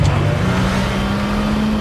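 A Lexus car in sport mode accelerates hard in the film Moonfall, a loud steady engine drone with a rising tone throughout.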